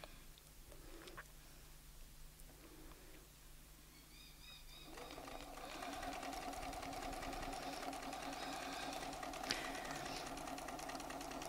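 A domestic sewing machine stitches fabric guided along a quilting template, starting partway through as a steady, fairly loud mechanical whir that runs to the end, with birds cooing and chirping faintly in the background.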